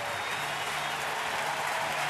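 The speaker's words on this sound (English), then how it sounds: "And listen to this crowd." A baseball stadium crowd applauds loudly and continuously during the 2013 NLCS Game 2 between the Dodgers and the Cardinals, a dense wash of clapping and cheering with no pauses.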